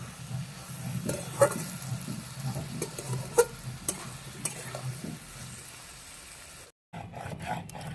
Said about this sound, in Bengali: আর ঢাকা দেব না নেড়ে নেড়ে তৈরি করে নেব চাটি চচ্চড়ি